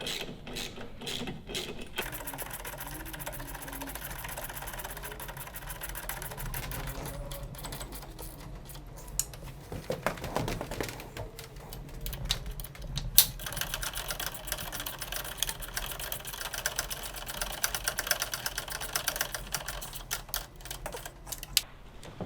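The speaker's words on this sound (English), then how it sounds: "we're gonna have to switch to a torque wrench to torque them to the final 60 foot-pounds of torque that they require" A ratcheting wrench tightening bolts on an Indian Challenger motorcycle dash relocation kit, rapid repeated mechanical clicking in bursts with short pauses, close and fairly quiet, with no talk.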